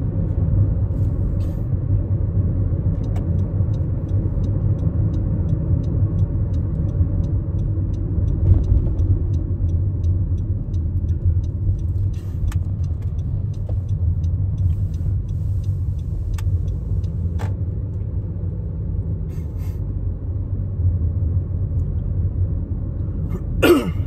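A car pulls slowly into a home garage with a low, steady engine rumble throughout, plus a few faint clicks and knocks near the end.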